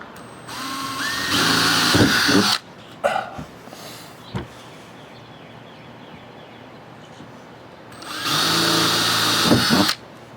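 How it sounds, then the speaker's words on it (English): A power drill whines loudly for a couple of seconds drilling a pilot hole in a high-roof Ford Transit roof, stops with a few clicks and knocks, then drills again for another two-second burst. "And drill a pilot hole."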